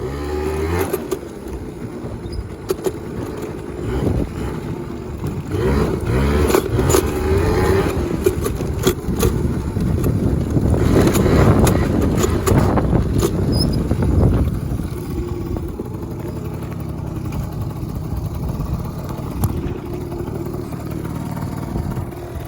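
A Yamaha Zuma 50 scooter running on ethanol-free gas rides along a trail, its small engine buzzing and revving steadily with rattles and scraping from the terrain, close and continuous throughout.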